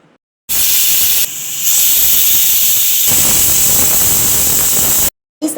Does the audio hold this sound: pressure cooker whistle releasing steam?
yes